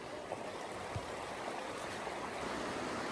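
Cold glacier-fed stream rushing near a waterfall in a rainforest, a steady broadband wash of water that stays even and moderately close throughout, with no voices.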